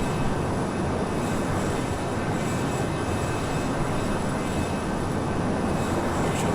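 Learjet 35A jet engines roar steadily in Microsoft Flight Simulator, a continuous broad cockpit drone with faint high whine and no talking over it.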